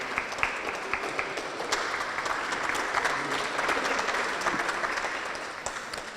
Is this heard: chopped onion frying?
no